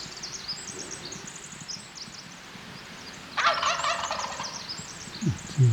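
Wild turkey gobbling in spring woods in Idaho, a loud close rattling gobble burst mid-clip, with fainter bird calls and a brief low rustle around it.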